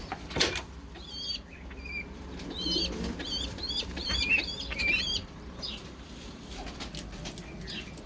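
Tumbler pigeon wings flap in quick bursts, with faint bird calls and outdoor background noise; no one speaks.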